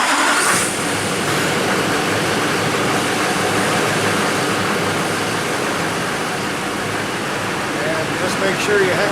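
Duramax diesel pickup with an Allison transmission idling steadily after start-up, a continuous broadband engine rumble held at constant loudness for the whole stretch, close by, with faint background sounds.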